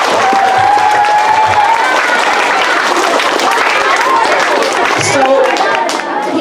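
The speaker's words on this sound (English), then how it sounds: "So let's give him a round of applause for that." A crowd gives a round of applause at a band informance event, loud sustained clapping with some cheering that continues for over six seconds, close and full, with voices mixed in beneath.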